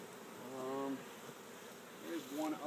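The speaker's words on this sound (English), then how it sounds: "you'll notice most of the bees are off of you now" Swarm of bees buzzing nearby in a steady, droning hum that swells and fades, with brief voices speaking over it.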